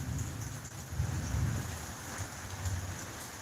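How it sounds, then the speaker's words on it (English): Steady rain falls outside, a continuous close hiss with a low rumble beneath it, moderately loud, with no talking. "The day's a rainy day."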